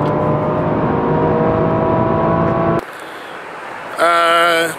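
A Holden car launches hard from a standstill, its engine roaring loud and steady for nearly three seconds, then cutting to a quieter lull before a brief high-pitched whine swells at the end.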